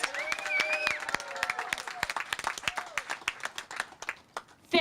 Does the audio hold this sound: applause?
yes